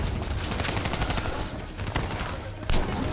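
Dense, continuous gunfire rattles through a shootout in Black Ops 3, with overlapping bursts and a louder blast near the end, loud and close throughout without any speech.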